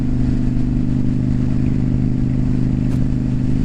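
Honda Shadow 750 motorcycle engine with a fresh air filter and new oil, idling with a steady loud low rumble throughout, close up and unbroken.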